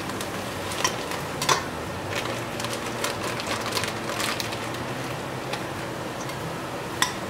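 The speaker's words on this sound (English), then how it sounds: "I'm gonna go ahead and throw in my cauliflower." Defrosted frozen cauliflower tossed into a pan of cooking meat and onions, giving a steady sizzle and frying hiss with scattered sharp pops and clicks, close and unaccompanied by talk.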